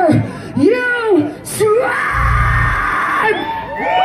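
Crowd at a metal festival yelling and screaming loudly in a long sustained roar, with a voice shouting over it before the swell.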